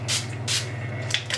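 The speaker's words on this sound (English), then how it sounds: "I'm gonna do my usual Mario Badescu rose water spray" Mario Badescu rose water facial spray misted close up in several short hissing bursts, two clear spritzes followed by a quicker pair near the end, with no talking.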